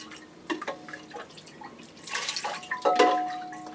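Water poured over orchid roots falls in irregular drips and splashes that thicken into a brief trickling pour near the end, close and clear with no talking.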